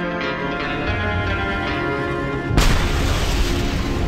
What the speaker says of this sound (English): I find my day just isn't complete without the sound of explosions to mark my passage